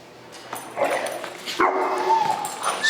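Dogs play and grumble at one another at a training facility, close-up yips, whines and low growly vocalizations rising in short bursts over a quieter room.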